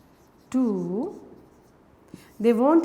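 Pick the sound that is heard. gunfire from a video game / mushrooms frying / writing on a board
writing on a board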